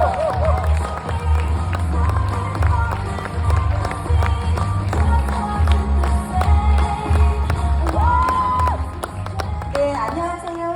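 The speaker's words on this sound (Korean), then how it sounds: "무대 위로 모실 때 큰 박수 함성으로 맞이해주세요" A conference hall crowd at a corporate event welcomes a presenter onto the stage with loud applause, cheers and whoops layered over booming music, dense and continuous throughout.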